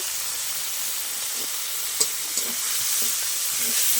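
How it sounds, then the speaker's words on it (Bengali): Chili paste and ginger paste frying in a pan with melted tomato for a vegetarian soybean curry, producing a loud, even hissing sizzle with a couple of small stirring clicks, close up and free of speech. "ভালো করে আমি ভেজে নেব।"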